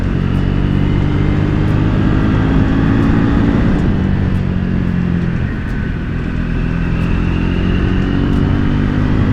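A Triumph Speed 400 motorcycle's single engine drones steadily and loudly while riding a tight, twisty road, with wind rush over a sustained low rumble and a brief dip in revs midway.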